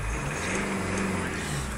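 Diesel engine of a Hyundai Santa Fe 2.0 CRD with about 148,000 miles, a steady close rumble running throughout with a broad low hum and no clear rise in revs.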